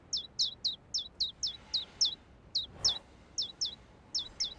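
Birds chirping in a video game: a steady series of about fifteen short, bright, evenly spaced chirps, close and clear over a quiet background, with one brief soft rustle midway.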